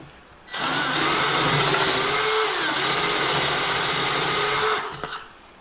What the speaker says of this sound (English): First, I'm gonna drill a hole like all the way to the middle of this 2x4.